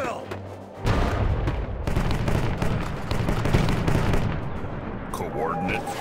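Gunfire and artillery from the war strategy game World War Armies: a continuous, dense barrage of sharp shots and heavy booms rolling on for several seconds, loud and close, with a low rumble underneath.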